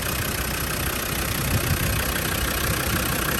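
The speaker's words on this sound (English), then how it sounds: "healthy sounding TD5 engine" A Land Rover Defender 90 soft top's TD5 diesel engine runs steadily at idle, a dense, even clatter heard close and constant without any speech.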